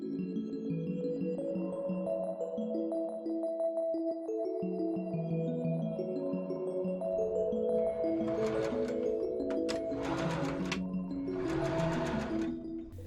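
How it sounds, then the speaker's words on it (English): A sewing machine stitching a sleeve lining seam for a velvet cottagecore dress, running in two rapid buzzing bursts beneath steady, gentle background music. "I pin and machine sew the sleeve lining seam together, stopping at the notch I created earlier."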